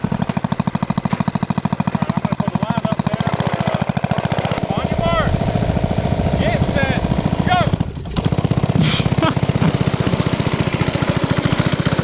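A small engine runs steadily with a rapid, rattling putter like a go-kart, loud and close, with brief squeaks and a momentary dip partway through.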